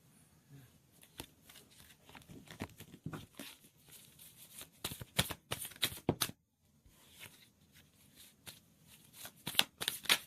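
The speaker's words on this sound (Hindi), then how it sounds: "एक मिनट, कार्ड नीचे गिरे, मैं उठा लूं।" Playing cards picked up off the floor after falling, a run of soft slaps, shuffles and papery riffles coming in bursts with a short pause midway, close to the microphone and without talk.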